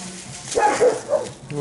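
A dog barks outdoors in a few short, close yips over about a second, with a person's voice partly mixed in underneath.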